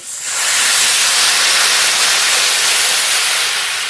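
Water poured into a hot pan of frying curry gives a loud, sustained steamy hiss that swells up within a moment and holds steady at full strength throughout.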